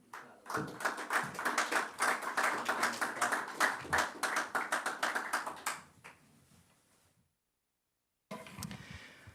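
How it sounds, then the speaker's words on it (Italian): Applause from an audience at a press conference for the Olimpia Verona futsal club, a run of close claps for about six seconds that fades out, then a short burst of sound after a pause. "gli facciamo anche un applauso"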